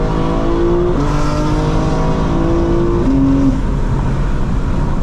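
A 2024 BMW M4 Competition xDrive engine pulls hard under acceleration, its loud, steady roar climbing and shifting pitch through gear changes for the full stretch, with no talk over it.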